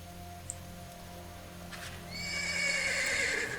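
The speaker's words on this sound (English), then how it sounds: "It makes the horses nervous, and you pull back on their bridles." Horses in the video game Ash of Gods: Redemption whinny and neigh on a road strewn with wolf carcasses, a shrill, rising call swelling in the second half over a low droning game ambience, with faint hoof clops.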